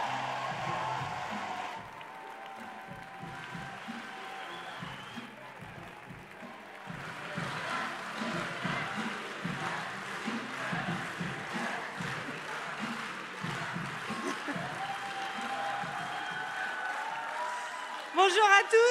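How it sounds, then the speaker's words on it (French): Audience applause at a Europe Écologie rally for the 2024 European elections, a broad wash of clapping that swells and holds steady across the hall, with some voices mixed in. "Tonnerre d'applaudissements pour Cyrielle."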